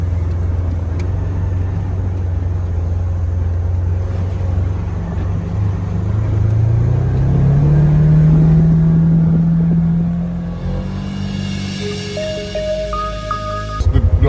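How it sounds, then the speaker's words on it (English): Heavy dump trucks drive back and forth over freshly laid aggregate, compacting a gravel mountain road; a loud, steady low engine rumble rises to a peak midway, then eases as the trucks keep running, with no talk. "what this compaction is really the dump trucks running over it, back and forth"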